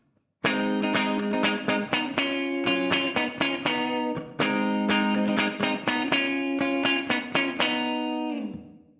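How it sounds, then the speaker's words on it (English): Distorted electric guitar doubling the bass line plays a steady, rhythmic line of repeated strummed chords and muted stabs, close and loud, with a brief pause midway before continuing. "That guitar part is doubling the bass throughout the entirety of the song"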